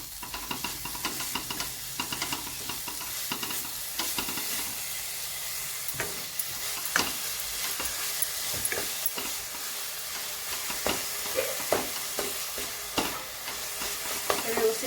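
Grated beetroot stirred with jaggery in a pan for a sweet halwa, giving a soft continuous sizzle and hiss with repeated scraping and stirring strokes and small knocks of the spoon against the pan, close and fairly quiet.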